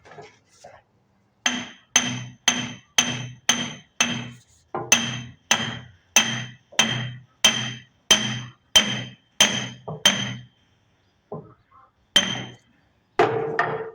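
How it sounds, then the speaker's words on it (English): Hammer striking a part into a backhoe hydraulic cylinder during repacking, a run of sharp, loud metallic blows in a fairly even rhythm, close by, with short pauses near the end. "Let's try to finish hammering that in."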